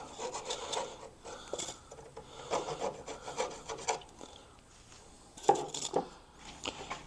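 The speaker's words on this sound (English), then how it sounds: "Let's deburr it a little bit here." A deburring tool rasps around the edge of a freshly drilled hole in a DIY 2.5kWh battery box, a series of short scraping strokes at close range with one sharper scrape near the end, no talking.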